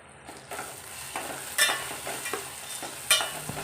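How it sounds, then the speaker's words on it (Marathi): Red chilli powder, sambar masala, garam masala and coriander powder sautéing in a pan, with low sizzling and repeated scraping stirs, a few sharper clinks of the spoon against the pan standing out. "हे मसाले सगळे परतवून घ्यायचे व्यवस्थित"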